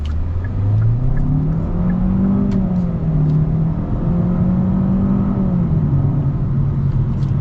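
A 2021 Hyundai Sonata Limited with a 1.6 liter engine accelerating hard, its engine note rising and shifting steadily in pitch for several seconds, loud and close from inside the cabin, with no talking.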